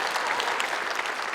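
A church congregation breaks into applause during a worship service, a dense, continuous burst of clapping from many hands that stays steady throughout the short stretch.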